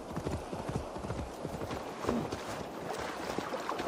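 Horse hooves clip-clop steadily and briskly in Assassin's Creed Valhalla, a close, even rhythm over light ambient background with no talk over it.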